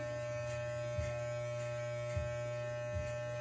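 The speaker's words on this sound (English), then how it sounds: "Once you hear the hair being cut off, you know it's working." Electric clippers buzz steadily at close range during a self haircut, a constant motor hum with faint periodic rises as the blades pass through hair, no talking.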